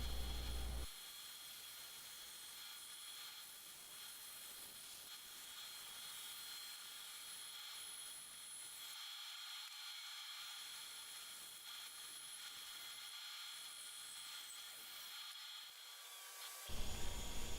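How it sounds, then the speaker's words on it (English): An electric spindle sander works an alder electric guitar body, a steady mechanical whir running throughout at fairly even loudness, with brief gaps where the wood contact eases off. "I don't use this spindle sander very often, but it sure does come in handy when I need it"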